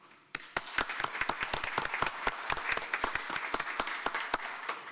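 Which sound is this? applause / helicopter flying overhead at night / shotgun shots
applause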